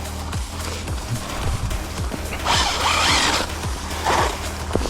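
An Arrma Limitless RC car with a cracked wheel runs over snow, its motor whine rising into a louder, brighter burst mid-run before easing, with a rhythmic ticking knock repeating underneath throughout.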